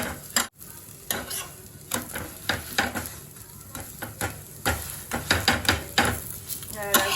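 Aloo paratha cooks in a pan on a gas stove, giving a steady sizzle broken by repeated stirring and scraping clatter close by, with a brief spoken word at one point.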